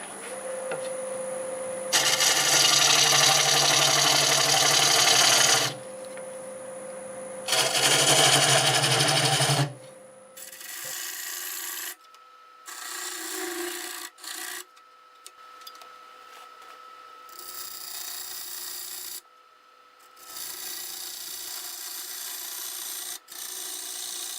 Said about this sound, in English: So I'm going to go with my 1/2 inch bowl gouge.